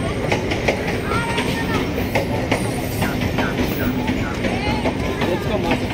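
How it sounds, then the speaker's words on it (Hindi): A slow-moving train heard from on board, with a steady rumble and rhythmic clickety-clack of wheels on rails, and voices talking over it. "इतना स्लो क्यों चल रहा है ट्रेन?"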